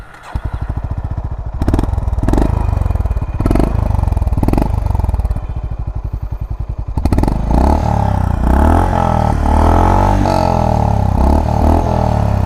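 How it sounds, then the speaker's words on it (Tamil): A Honda CB350 RS motorcycle engine idles with a deep, throbbing exhaust note, then revs up briefly and settles into a rougher, louder rumble. "ஒரு சூப்பர் பைக்கோட எக்ஸாஸ்ட் மாதிரி இந்த சவுண்டு வந்து கேட்கும்."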